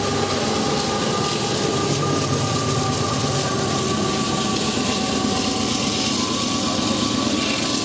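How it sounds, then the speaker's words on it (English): An AC44 locomotive at the rear of a long freight train hums and rumbles steadily with a droning engine tone, a continuous mid-distance rail roar with no voices. "AC-44 6598 brings up the rear of the lengthy train."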